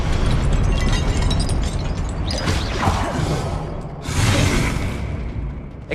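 An Expelliarmus spell is cast in the Hogwarts Legacy video game, producing a loud, forceful burst and whooshing crash with a surging blast near the end, amid continuous game battle noise.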